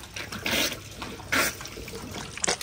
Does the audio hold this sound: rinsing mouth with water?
yes